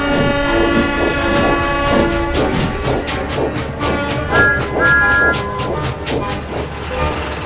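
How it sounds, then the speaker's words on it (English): Steam engines chuffing in a busy, noisy harbor, with rhythmic puffing and rail clatter running under a loud melodic music score, a brief whistle-like tone rising midway through. "The harbor was busy and noisy. Engines were puffing in and out non-stop."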